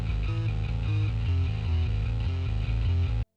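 Plain electric bass guitar layered under djent guitars and a synth bass, a heavy, continuous low riff of rhythmic repeated notes at full volume, ending abruptly into silence.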